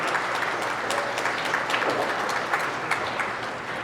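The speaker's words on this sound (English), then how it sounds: "I heard someone yell Johnny on the other table, and they're yelling and clapping" Spectators at a 9-ball pool tournament, the 2013 Derby City Classic, give dense, sustained applause from a nearby table, with scattered shouts in the steady roar of clapping.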